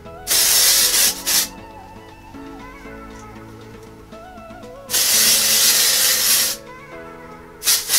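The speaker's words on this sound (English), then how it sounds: "just spray a whole bunch of hairspray over my hair" Hairspray hisses in long, loud bursts as it is sprayed over freshly waved hair, two sustained blasts separated by a quieter gap and short puffs at the end, with soft music underneath.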